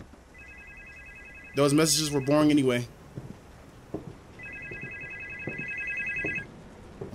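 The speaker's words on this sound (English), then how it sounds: "The phone is ringing." A telephone rings in the horror game Supernormal, sounding as a bright electronic trill in two bursts, with someone talking briefly between them.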